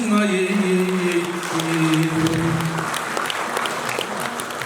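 Wedding guests applaud a performance, a dense and fairly loud wash of clapping that carries on for several seconds while a sustained voice or tone drifts beneath it at first.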